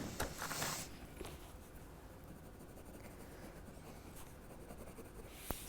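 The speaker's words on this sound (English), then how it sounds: "using my colouring pencils, I can colour it all in." Colouring pencils scratch softly across paper in close, quiet strokes, with slightly louder rubbing at the start and near the end against a faint, steady room hush.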